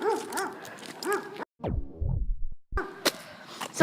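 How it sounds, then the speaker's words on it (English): Dogs bark and yip in short bursts, with whining, pitch-sliding howls in between; fairly close and loud, with brief pauses. "I'm sick of all these dogs barking."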